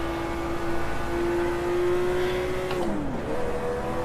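Street car engine from a racing game holding a steady drone under load, then a quick drop in pitch as it shifts or lifts before settling again, loud and close with no voices.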